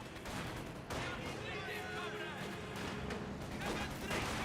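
Gunfire from Company of Heroes 2 during a match with Jaeger infantry, a steady dense crackle of shots and small-arms fusillade running throughout, loud and continuous with occasional heavier bursts, under what seems to be faint talk.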